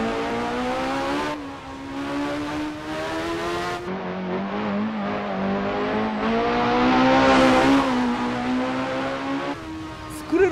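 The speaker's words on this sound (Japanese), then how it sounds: "エンジンどっからでも吹けてくる。" A lightweight 270-horsepower Honda CRX in a racing simulator game on a mountain pass, its engine revving continuously and climbing and dropping in pitch through gear changes, with a brief tire squeal.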